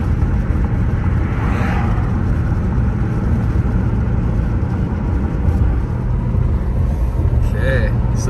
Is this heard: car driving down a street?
yes